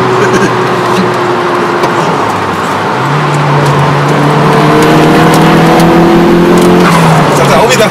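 Lamborghini LP640 and Nissan 200sx racing on the street, engines droning and rising in pitch as they rev, steady and loud with voices talking over them.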